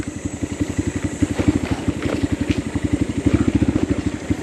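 A small scooter engine chugs steadily with a rapid, even putter and some rattling, close by, as the scooter rolls over a rough, rocky road.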